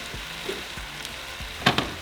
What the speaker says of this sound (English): And now we're going to add our potatoes